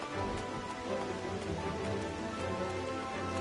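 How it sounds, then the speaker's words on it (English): Rain pours in the online game Final Fantasy XIV, a dense, continuous patter with low rumbling underneath, steady and fairly quiet, with no talking. "Ooh, look how pretty this is with the rain."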